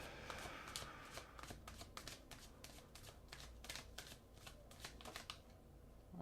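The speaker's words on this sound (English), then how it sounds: "So I'm shuffling the cards" Rapid riffling shuffles of tarot cards, a run of crisp crackling bursts repeating close by, one after another in a quick irregular rhythm.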